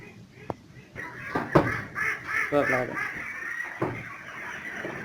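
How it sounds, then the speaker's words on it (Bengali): Ducks on a pond farm raising ducks and catfish together, housed in a two-storey shed, let out several nearby quacking bursts mixed with people talking. "এগুলো হচ্ছে হাঁস"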